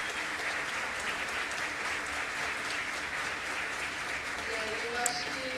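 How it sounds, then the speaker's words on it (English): Audience applause at a conference, steady and fairly even clapping that holds at one level for several seconds, with a faint voice murmuring near the end. "thank you, Liz, with a round of applause"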